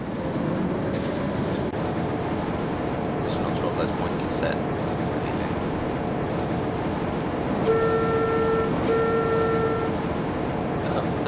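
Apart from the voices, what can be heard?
train passing in Trainz video game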